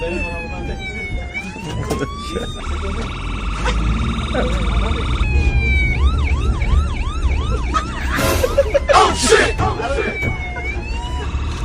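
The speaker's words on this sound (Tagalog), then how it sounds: "Ambulansya yan, oh." An ambulance siren wails in rising and falling sweeps, then switches to a rapid yelp, over traffic rumble with people talking nearby.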